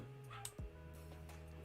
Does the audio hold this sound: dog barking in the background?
yes